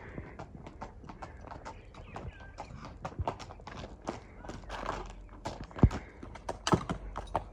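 A horse trained for ulak, the Kyrgyz goat-carrying game, walks with clear clip-clopping hooves at close range, and a brief whinny and some voices are heard.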